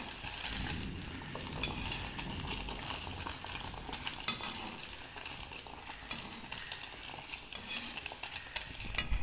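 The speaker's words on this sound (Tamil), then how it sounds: "நிதானமாக இதை பொரிக்கணும்." Gulab jamun made from milk deep-fry in hot oil, giving a steady, dense sizzle with occasional light clinks of a utensil stirring them, close and continuous throughout.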